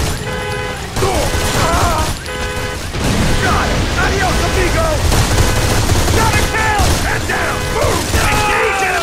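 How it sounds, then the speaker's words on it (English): Rapid bursts of automatic gunfire in the shooter game Modern Combat 4: Zero Hour crackle loudly and repeatedly, mixed with mechanical clatter and some voices in the background. "I'm under enemy fire!"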